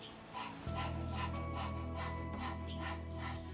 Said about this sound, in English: So for this particular pose, we then begin breath of fire.